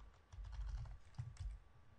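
Typing PL/SQL code on a computer keyboard: a quick, irregular run of soft key clicks and thumps at close range, alone and fairly quiet.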